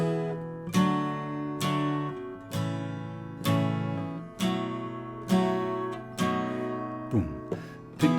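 Acoustic guitar strummed in a steady pattern of ringing chords, the intro to a song, played up close with each strum sustaining before the next, ending on a final ringing strum.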